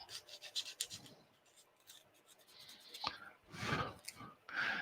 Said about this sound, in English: Now this is coarse sandpaper, so I don't want to press too hard with it.